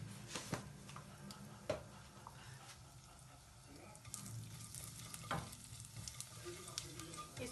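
Cumin seeds sizzle in hot oil with a soft, steady crackling hiss, broken by a few sharper pops and stir clicks, faint and close up while a voice talks quietly over it.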